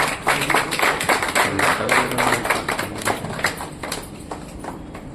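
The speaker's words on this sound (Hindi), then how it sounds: "तालियां बजाइए भाई।" A crowd claps steadily in irregular, overlapping bursts that gradually thin out and fade toward the end.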